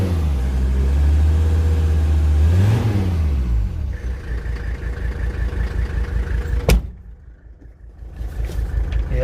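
A Mercedes-Benz 300TD W123 diesel engine idles with a low, slightly rough rumble, then revs up and settles back down, a sharp click cutting through midway before the engine drops quiet and returns.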